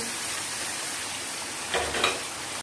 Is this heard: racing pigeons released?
no